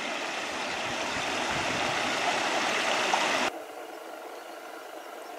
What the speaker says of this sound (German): dass selbst hier dieser kleine Rinnsal so ein richtiger, kleiner Bach geworden ist